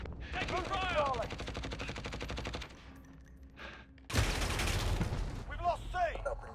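Gunfire crackles through a Call of Duty: Modern Warfare multiplayer match, with automatic bursts at middle distance. Radio-style callouts, a stretch of quieter ambience, and then a louder, closer burst of shooting with more voices over the top.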